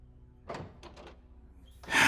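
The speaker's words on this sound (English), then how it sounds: "here's our door to walk through" A door opening in the video game The Descendant, a few muffled thumps followed by a louder scraping swing at the end, with no voices.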